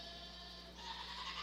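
Goats bleating at a county fair goat show in an 80-pound class, a faint continuous wavering bleat carrying through arena noise with a slight rise partway through.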